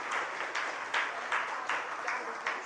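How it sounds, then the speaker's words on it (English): An audience at a university course session claps in a moderate, steady burst, the applause rhythmic and somewhat distant, with scattered pulses of louder clapping throughout. "Okay, yeah, please clap."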